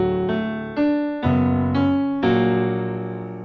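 Piano playing a passage from a song: a few full chords struck one after another, each ringing on and fading slowly, close and clear with no talking.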